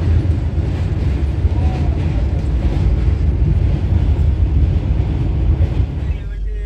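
A 12246 Bengaluru-Howrah Duronto Express crosses the Brahmani river in Odisha, producing a steady, loud, dense rumble and roar of wheels and carriages throughout.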